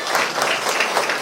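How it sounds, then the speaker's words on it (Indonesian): Classroom of students clapping for a teacher during a school visit by Indonesia's education minister, a short, dense burst of applause filling the room. "Tepuk tangan untuk Pak Guru dong"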